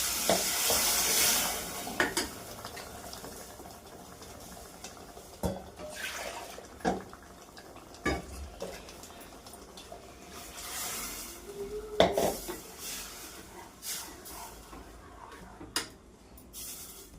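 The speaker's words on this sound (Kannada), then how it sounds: "ಈಗ ಸೊಪ್ಪು ಬೇಯಿಸಿರೋ ನೀರೆಲ್ಲ ಹಾಕ್ತಾ ಇದ್ದೀನಿ." Water saved from boiling uli soppu greens is poured into a sizzling onion tempering for a village-style saaru, with repeated close scraping stirs and clinks of the spoon against the pan throughout.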